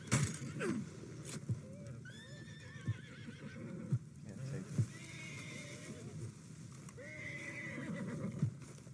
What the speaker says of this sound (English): What's wrong with these horses?